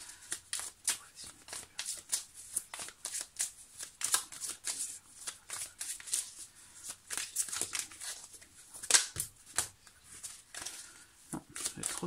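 Tarot cards being shuffled by hand in a steady stream of crisp riffling and flicking bursts, up close and fairly quiet, with no voice over them.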